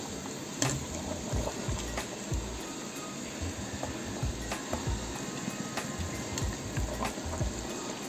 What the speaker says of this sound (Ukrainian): Зараз заливаємо розсолом.